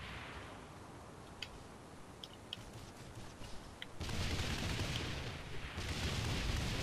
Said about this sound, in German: Da sind ganz viele Granaten lang geflogen.